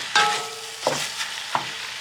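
Sausage frying in a pan is stirred and broken up with a utensil, giving three distinct scraping strokes over a steady close sizzle.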